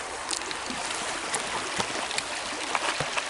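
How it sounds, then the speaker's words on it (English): A flowing stream on a camping trip makes a steady, broadband rushing and trickling wash, close and continuous throughout, with no talking over it. "You like the sound of the water?"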